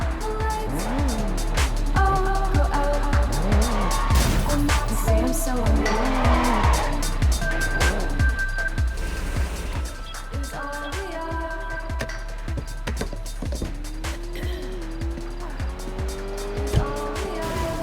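Street racing in the video game Sleeping Dogs: engines rev and shift through gears in a loud, continuous run, with tire squeals and skids, music underneath and a brief voice partway through.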